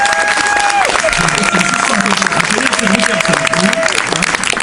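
Crowd in Caen applauding a band at a live radio event, dense clapping and cheering filling the clip while tonal music or electronic tones glide over it.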